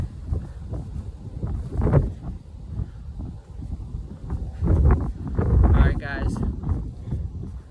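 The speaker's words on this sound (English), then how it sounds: "the wind is nuts." Strong outdoor wind buffets the microphone in low rumbling gusts, surging loudest near the middle and end, during an outdoor workout with someone talking over it.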